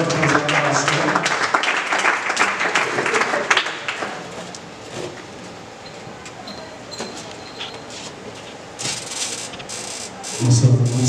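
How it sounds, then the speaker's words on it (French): Church congregation applauding and cheering an evangelist at a New Year's greetings service, loud dense clapping at first that tapers into scattered claps and crowd noise, with a brief burst of voices at the end. "nous l'encourageons pour les acclamations"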